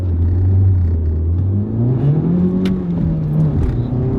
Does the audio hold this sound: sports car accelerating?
yes